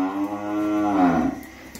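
A single cow on a Vietnamese cattle farm lets out one loud, close moo that rises and then trails off.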